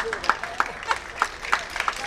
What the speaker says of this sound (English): Oh, no, please don't clap so much.